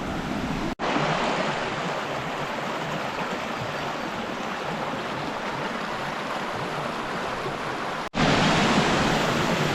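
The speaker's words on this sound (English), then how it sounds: "There's lots of cascades, as you can see just here behind me" Steady, full-bodied rush of water tumbling over cascades beside the walking track to Fish Falls in the Grampians, a close, constant roar filling the whole clip without voices.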